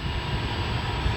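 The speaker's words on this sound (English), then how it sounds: "So that blue airplane over there is starting up its engines. You can hear it's got really loud." A small propeller airplane at Oxford airport runs its engine on the ground, giving a loud, steady low rumble and drone that fills the whole short stretch without any talk.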